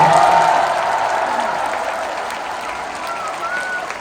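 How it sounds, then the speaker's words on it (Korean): Audience applause at a talk concert, a dense steady wash of clapping from a crowd, loudest at the start and tapering slightly toward the end, with faint voices mixed in. "다시 한번 박수 부탁드리겠습니다"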